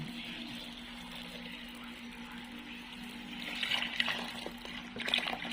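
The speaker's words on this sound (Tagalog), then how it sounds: "lagyan pala natin ng tubig" Water pours and trickles into a cooking pot of champorado, growing splashier and louder toward the end over a faint steady hum.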